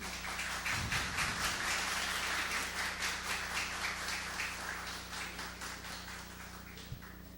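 Steady applause ripples through a legislative chamber session, a dense patter of many hands clapping at even loudness that slowly thins, over a constant electrical hum.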